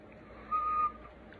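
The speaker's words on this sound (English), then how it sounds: "Suddenly, out came a real whistle." A boy blows a real whistle for his dog: one steady, fairly loud whistle tone held for about half a second, standing out alone over faint background hiss.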